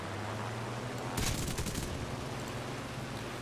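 Aircraft gunfire in War Thunder, from a Griffon-powered fighter engaging a BF-109: a loud rattling burst of rapid shots lasting under a second, standing out over a steady engine drone.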